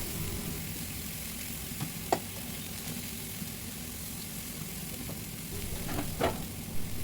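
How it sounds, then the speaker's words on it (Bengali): Chicken seasoned with turmeric, red chilli powder, black pepper and salt cooks over low heat in a pan for a tawa pizza topping, giving a quiet, continuous sizzle with a couple of soft stirring clinks. "চুলার জাল কমিয়ে আস্তে আস্তে চিকেনগুলা সিদ্ধ হতে দেব"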